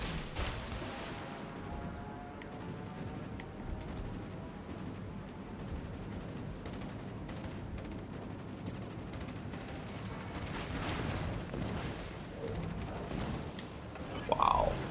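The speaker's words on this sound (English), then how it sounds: "Look at those secondaries, guys. Just getting shredded by that frickin' secondaries." Battleship secondary guns firing in a naval video game make a dense, continuous crackle of distant shots and mechanical rumble, steady and fairly faint for the whole stretch.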